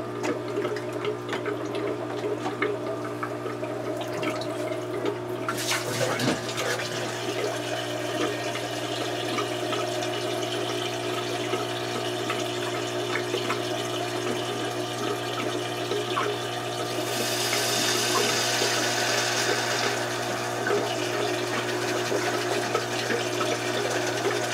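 Water is pumped out of an aquarium during a water change, a continuous rushing, gurgling flow with a steady motor hum that swells louder partway through.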